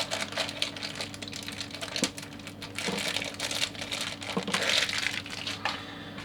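Crinkly plastic rustles and crackles in close, irregular bursts, like a thin perforated bag around a Pop Mart figure being handled and torn open, with no talking.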